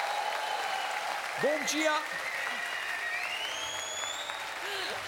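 Studio audience applause at the ZDF Fernsehgarten, an outdoor TV show: a steady bed of clapping for about five seconds, with a voice calling out a short greeting over it.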